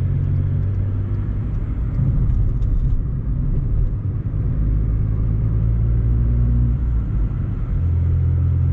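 A Volkswagen Polo's engine hums in a steady low rumble, heard from inside as the car drives along without pause.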